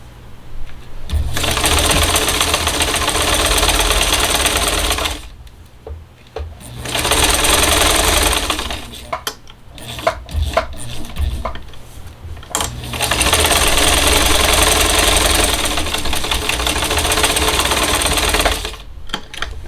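Sewing machine stitching fabric and back stitching, running in three long steady bursts of rapid, loud mechanical whirring, separated by short pauses with scattered clicks and handling sounds.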